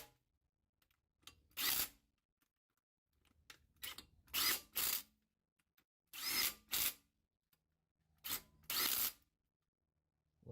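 Clutch bolts being tightened with a ratcheting wrench during a clutch and flywheel install: short bursts of close, sharp ratchet clicks separated by silent pauses.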